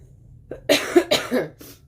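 A few sharp coughs in quick succession, close and loud, after a brief throat sound, with silence around them.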